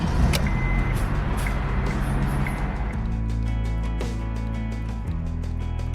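A car engine starts on a newly cut and programmed key at a Portland automotive shop. The motor catches about halfway through and settles into a steady, close idle hum.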